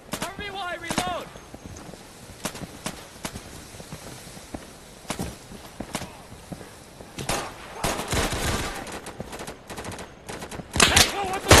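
Gunfire in the 2014 shooter game Insurgency, with bursts of automatic fire and scattered single shots over nearly twelve seconds, some close and loud, mixed with footsteps and voices talking.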